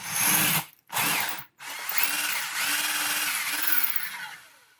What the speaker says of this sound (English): So I'm just going to drill a decent sized hole in the top here.